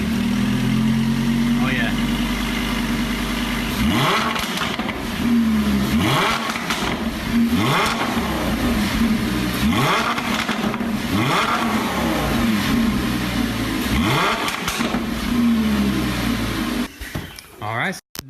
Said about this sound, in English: Corsa mode engaged.